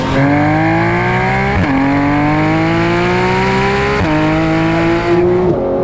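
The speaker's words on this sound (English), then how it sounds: "you become drunk with the sound of Porsche's 4-litre flat 6" A Porsche 911 GT3 RS's 4-litre flat-six screams through rising gears, each upshift briefly dropping the pitch before it climbs again, loud and continuous.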